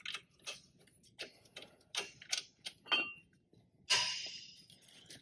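Bolt being removed from the second brake caliper bracket on a 2006 Chevy Cobalt, a series of faint metallic clicks and ratcheting ticks with a louder clink near the end, otherwise quiet.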